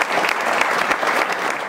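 Loud, dense applause from an audience at an association awards gala, continuous clapping filling the room without a break.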